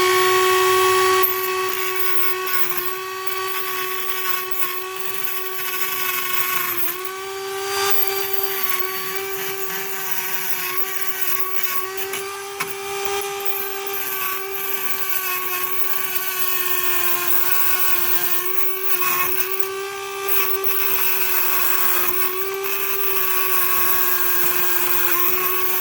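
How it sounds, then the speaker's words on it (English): A Dremel rotary tool with a cutting wheel grinds continuously, giving a steady, loud, high-pitched whine rich in overtones that wavers slightly in pitch as the wheel bites, with no talking. "So it's Dremel wheel time."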